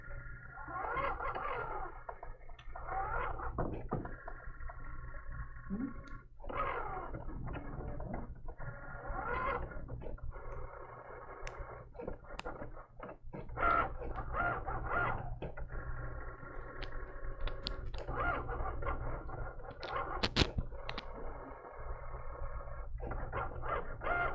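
A Cricut cutting machine runs through a cut, giving a steady low mechanical whir with a faint buzzing hum and small clicks and shifts as the carriage moves, continuous and fairly quiet throughout.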